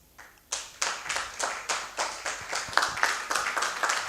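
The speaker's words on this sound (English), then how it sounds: "A round of applause." Rhythmic clapping at a business-of-law conference: a faint lone clap first, then a steady series of regular, fairly close hand claps that sound like one or a few people clapping in time rather than a full ovation.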